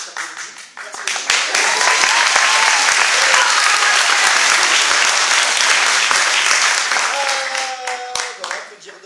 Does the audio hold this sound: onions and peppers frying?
no